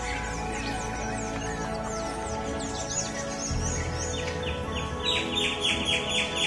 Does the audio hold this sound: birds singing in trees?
yes